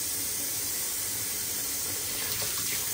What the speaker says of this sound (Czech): Ty jsi zapla vodu?